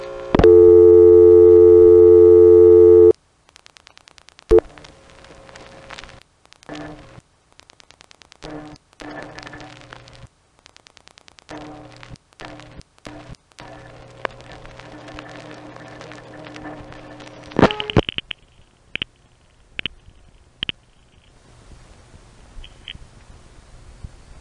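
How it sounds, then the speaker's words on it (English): A 1970-era crossbar telephone line plays a loud steady intercept tone, then a very faint ring and a click of a 391 intercept among sparse clicks and low static. "That was a ring and a click associated with 391 intercept at a very low volume."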